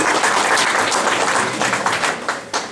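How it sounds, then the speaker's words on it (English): Applause for a family at a corporate family night event, a steady wash of clapping from a crowd that gradually thins and fades toward the end. "One more round of applause for the family."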